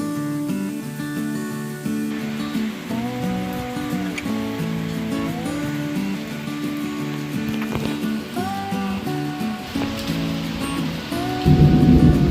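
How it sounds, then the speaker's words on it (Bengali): Heavy rain heard from a rooftop during a thunderstorm makes a steady broadband wash mixed with some tonal sounds. A deep, louder thunder rumble swells in near the end. "মেঘ ডাকছে, নিচে যাই।"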